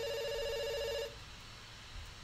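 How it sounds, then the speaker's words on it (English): A telephone rings in the video game Dr. Langeskov, a steady electronic trill that sounds loud and close for about a second before cutting off, leaving quiet room tone. "I just hope this phone isn't ringing in some empty room somewhere."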